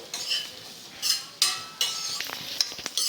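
Ginger pieces, air-dried for over an hour, frying in a single spoon of oil in a pan for a pickle, with a soft steady sizzle broken by metal spoon scrapes and clinks against the pan.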